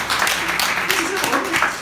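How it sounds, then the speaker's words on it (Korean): Lecture audience applauding after a talk by a lawyer on constitutional amendment, a dense, steady wash of clapping that stays loud throughout, with some voices mixed in. "그래서 저는 여러분이 박수 한번 주셔야 될 것 같아요."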